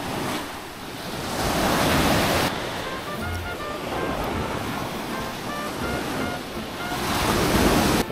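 Ocean waves roll in at a seaside beach after rain, with a broad, steady roar of surf that swells and recedes, mixed with wind buffeting the microphone.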